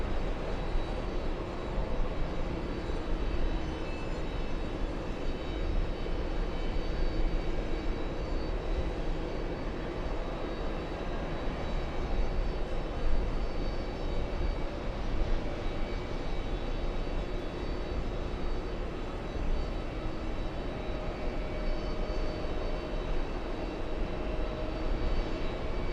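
Jet airliner roaring down runway 22 right on takeoff, a continuous broadband engine roar that holds steady and loud throughout, with no voices.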